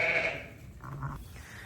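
A ewe that has just lambed bleats on a farm in spring, a few loud calls early on, then softer, lower sounds, heard close with no talking.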